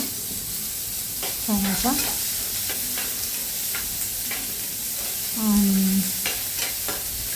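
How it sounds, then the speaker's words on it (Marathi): Two small chopped onions sautéing in a pan, with a steady low sizzle and the scrape of repeated stirring, while someone talks over it. "आता तो कांदा परतून घेऊया"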